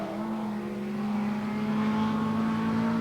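Sports sedan race cars roar around the Manfeild circuit with a steady, sustained engine drone at moderate distance, no voices audible.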